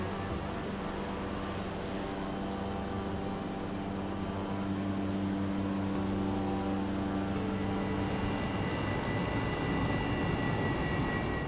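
A helicopter in the Flight Simulator video game flies over Moya on Gran Canaria, its engine and rotor a steady, close droning hum with layered tonal harmonics that holds evenly throughout, with no voices.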